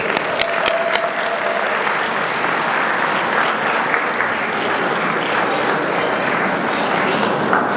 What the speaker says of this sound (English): let's give a thunderous round of applause for Mayor Brandon Johnson